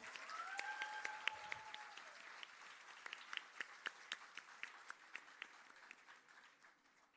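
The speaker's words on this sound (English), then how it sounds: "Let's give her one more big round of applause." An audience claps for a Kathak dancer at her debut recital, a fairly faint hall applause with a few sharper individual claps standing out and a brief cheer or whistle early on, tapering off toward the end.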